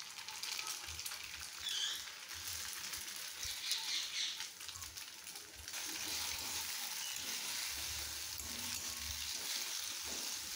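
An egg cracked into a pan for egg pasta fries with a quiet, steady sizzle that grows fuller and more crackling partway through, heard close and alone.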